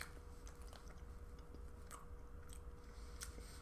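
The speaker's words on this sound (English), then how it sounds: "it's so soft it almost melts when you're biting through it" A soft strawberry cream cake snack from a Japanese snack box is bitten and chewed close to the mic, quiet, faint soft chewing and small crunchy ticks with no talking.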